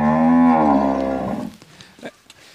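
A Nili-Ravi buffalo at a livestock sale in Pakistan gives one long, loud, close moo that tapers off, followed by a few faint thumps and rustles.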